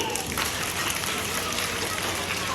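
A group of students taps single fingers against their palms to imitate rain, making a dense, even patter like light rainfall that holds steady at close range throughout.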